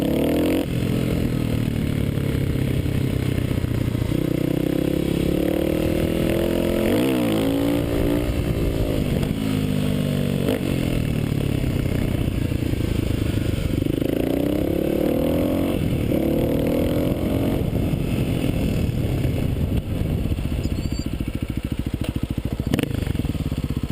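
Kawasaki KLX250 dirt bike engine revving hard in repeated bursts, rising and falling in pitch as the rider pops a clutch-up wheelie, loud and close throughout with steady wind noise.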